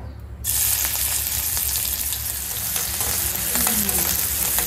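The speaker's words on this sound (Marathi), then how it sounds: "कांदो परतून घेऊया" Onion fries in hot oil in a kadhai with a steady, loud, close sizzle that starts abruptly and runs throughout, with no talking.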